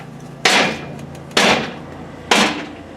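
Three sharp metal hammer strikes on the exhaust of a 2006 Ram Turbo Diesel during a cat-back install, evenly spaced about a second apart, each ringing briefly before fading.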